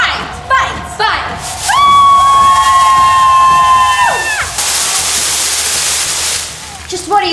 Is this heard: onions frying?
no